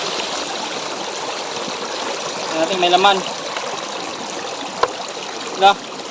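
Steady trickling and dribbling water drains from a 6-liter shrimp trap throughout, with a few splashy bursts, while someone speaks briefly in Filipino over it.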